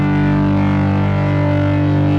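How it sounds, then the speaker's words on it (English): A dense, sustained cinematic drone from the Pigments synth runs loud and steady through a tape distortion effect, thick and saturated with no pauses. "The tape distortion would be nice."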